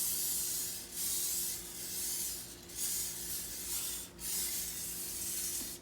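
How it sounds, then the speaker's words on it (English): Cooking spray hisses onto the bottom plate of a waffle iron in several steady, close bursts with short pauses between them. "now I'm gonna spray the bottom"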